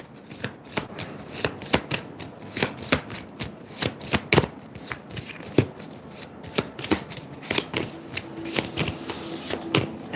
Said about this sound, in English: I don't know how to shuffle this with 3 cards.